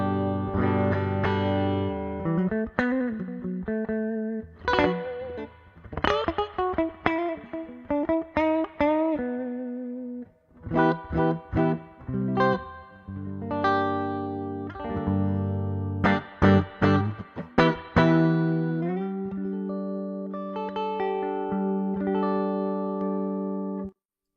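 A 1974 Gibson L6-S electric guitar with humbucker pickups plays alone, picking out single notes and strummed chords with a warm, sustained tone and brief pauses between phrases.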